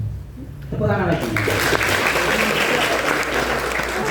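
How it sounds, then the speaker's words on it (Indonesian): Audience applause at a public speaking contest, a dense burst of clapping that starts abruptly after a brief quiet moment and stays loud and steady to the end. "Tepuk tangan lagi."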